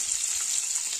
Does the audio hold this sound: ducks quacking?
no